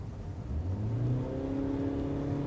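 A 2012 Toyota Prius C carrying four people at full throttle gives a rising whirring engine note that climbs steadily in pitch, moderately loud inside the cabin, with no talk.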